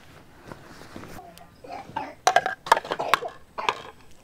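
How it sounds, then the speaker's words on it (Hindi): Several rough coughs in a short cluster, close and fairly loud, after a stretch of quieter breathy sounds. "खांसी लग गई ना"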